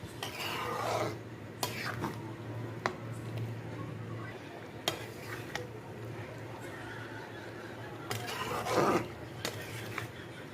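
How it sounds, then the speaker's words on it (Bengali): Khichuri being stirred in a pot to mix in spice paste, with periodic scraping strokes of a spoon against the pot over a steady low hum, moderately close and fairly quiet. "এবার একটু ভালো করে নাড়াচাড়া করে মিক্স করে নেবো ভালো করে"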